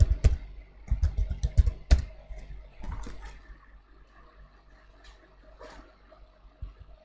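Keyboard typing during an online walkthrough of setting up an IoT cloud service: a few quick bursts of clicking keystrokes up close, then sparser taps fading into quiet room noise.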